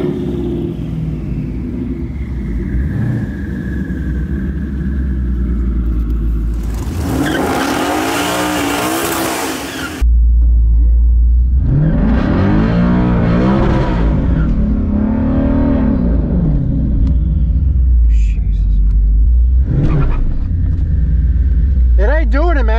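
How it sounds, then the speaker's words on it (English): A Hemi V8 engine rumbles steadily at close range, its idle carrying a faint ticking, with loud bursts of revving and tire noise and people talking over it. "Comes with a Hemi tick and everything."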